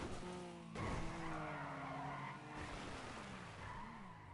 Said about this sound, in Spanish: Es que mira cómo derrapa el puto coche